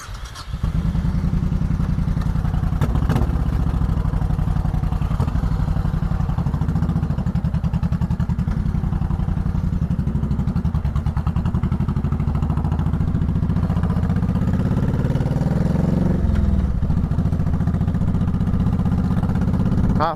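A 2004 Honda Sabre 1100 motorcycle's engine running while being ridden, a loud, steady low rumble that rises slightly toward the end as it revs, with no voices.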